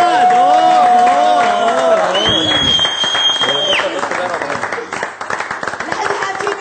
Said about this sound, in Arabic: تصفيق حار، تصفيق حار، تصفيق حار اذا بتريدوا